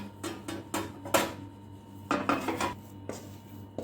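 Ghee being spread over a large plate while making jaggery mohanthal: a few short, close scraping clinks and taps of utensil on the plate, spaced irregularly over a low steady hum.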